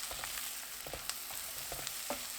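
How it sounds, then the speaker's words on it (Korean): Perilla leaves and sea snails stir-fried over high heat with roasted salt give a steady close sizzle and crackle, with scattered sharp pops and light scraping throughout. "구운 소금 3분의 1큰술 넣고 센 불로 2분 볶아주세요"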